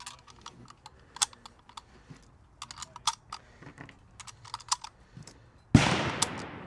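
Cartridges are pressed one by one into an SKS rifle, giving a series of sharp, close metallic clicks in an irregular rhythm, followed at the end by a louder, noisy burst of handling.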